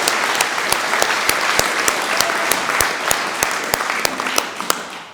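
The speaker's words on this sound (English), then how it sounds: "Give her a big round of applause." Audience applause fills the room at a political event, a steady dense wash of clapping with sharp individual claps standing out, loud and sustained throughout with no talk over it.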